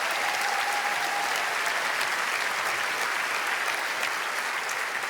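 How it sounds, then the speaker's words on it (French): A comedy festival audience in Liège gives sustained, thunderous applause. Dense clapping continues evenly and loudly from start to finish with no voices standing out. "Un tonnerre d'applaudissements pour Kevin, s'il vous plaît."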